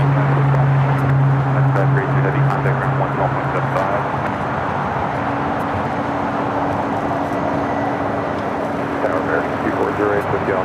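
A China Airlines 777 cargo freighter spools up its jet engines for takeoff at LAX, a loud, broad roar with a steady tonal whine, heard under continuous talk.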